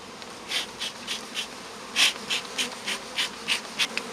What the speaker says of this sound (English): We're shaking all the bees, so there's plenty of bees in the brood super